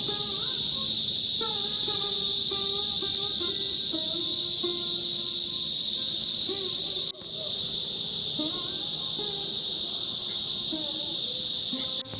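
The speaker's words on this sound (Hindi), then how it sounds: "ये जो टिड्डे हैं ये बहुत आवाज़ कर रहे हैं" A loud, continuous high-pitched buzz of grasshoppers chirping fills the background while a person talks throughout.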